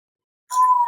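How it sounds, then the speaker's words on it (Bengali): A single bird gives a short, clear whistled call near the Sundarbans crab-hunting grounds, one sustained note starting abruptly after silence. "পাখিটা শুনতে পাচ্ছেন"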